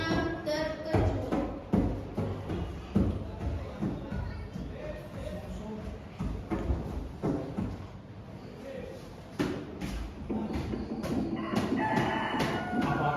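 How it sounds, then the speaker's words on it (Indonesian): Roosters crow and call back and forth in a school stage drama of the Sangkuriang legend, mixed with pounding thuds, shuffling and voices of performers throughout. "Suara ayam mulai bersahutan karena terkejut."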